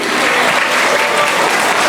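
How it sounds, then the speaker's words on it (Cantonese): Loud, dense applause from a school audience at a junior secondary inter-class choral competition, clapping for teachers, a continuous close patter with no pause. "俾啲掌聲好唔好啊？"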